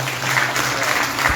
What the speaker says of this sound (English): Give him a bigger round of applause.